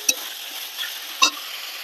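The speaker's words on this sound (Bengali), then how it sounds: "ভালো করে নেড়ে চেড়ে নেবো" Chicken pulao being stirred in a pan, a soft scraping and shuffling with two brief sharper clinks of the utensil against the pan under a steady faint sizzle.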